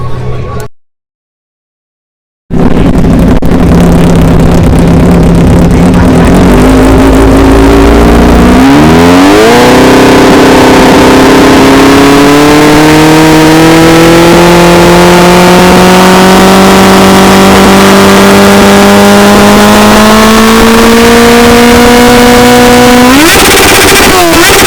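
A custom superbike with a Growler 2 race exhaust at a superbike festival in Pune, 2016, revs very loud and close after a brief silence, its howl climbing steadily in pitch over a long sustained pull before a final sharp blip.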